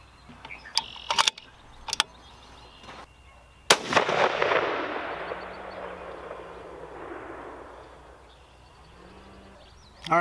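A Howa 1500 rifle in 6.5 Creedmoor fires a single loud shot at an outdoor range, its blast rolling away in a long fading echo, after a few small mechanical clicks and handling sounds.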